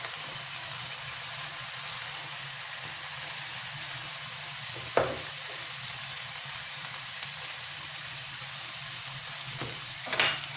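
Cabbage with garlic, salt and pepper stir-fries in a pan, giving a steady close hiss of sizzling throughout, broken by a couple of brief utensil knocks and scrapes, with no talking.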